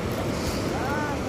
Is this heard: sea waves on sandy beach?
yes